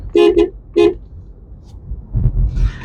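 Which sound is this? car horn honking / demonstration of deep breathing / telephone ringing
car horn honking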